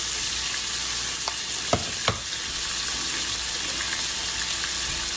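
About two tablespoons of butter sizzle in a frying pan for steak au poivre: a steady, loud, close hiss holds throughout, with a couple of brief knocks near the middle and no talk.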